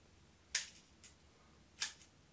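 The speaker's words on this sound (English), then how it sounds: "When I press it again, it shuts the shutter." A few crisp mechanical clicks from a large format camera's lens shutter being cocked and fired, quiet and close, in an otherwise still room.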